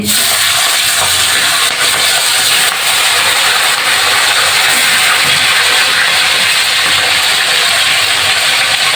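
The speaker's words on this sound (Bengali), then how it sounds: "এবার চিকেনগুলো দিয়ে দিচ্ছি" Marinated chicken in turmeric, salt and lemon drops into hot mustard oil with cinnamon, bay leaves and cloves, giving a loud, steady, broadband sizzle and hiss that holds evenly throughout with no talking.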